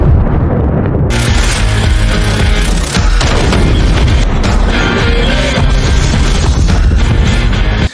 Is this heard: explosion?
yes